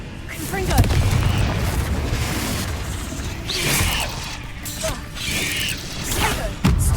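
In the Hogwarts Legacy video game, the Confringo fire spell goes off as a series of booming blasts and mechanical clatter across combat, with several sharp impacts close up and no talking.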